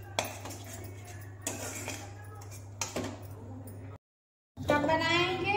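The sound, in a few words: spoon mixing curry leaf chutney in a dish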